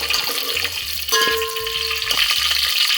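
Whole garam masala spices hiss and crackle in hot oil, a steady bright sizzle with a stirring scrape and a brief tonal ring in the middle, no talking.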